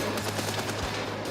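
A machine gun firing around 500 rounds a minute gives a steady, dense stream of rapid shots, loud and unbroken from start to finish.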